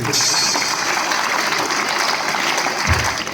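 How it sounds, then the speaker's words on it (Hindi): A school audience applauds at the release of a student-made magazine at Sant Mariyam residential school, a thick continuous wash of clapping from many hands throughout, fairly loud and close. "आपकी तालियां बजनी चाहिए उनके लिए"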